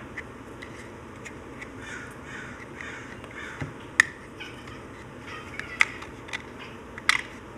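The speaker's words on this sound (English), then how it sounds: "Oh, Tuco is chirping at birds." A small hobby robot gives short, sharp electronic chirps, scattered irregularly and fairly quiet, over a faint steady room hum with no talking.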